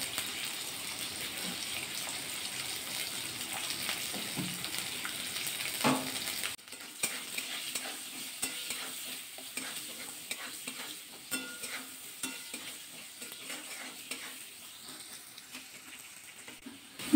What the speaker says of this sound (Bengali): নাড়াচাড়া করে আলুগুলো কিন্তু ভাজা করে নিয়েছি,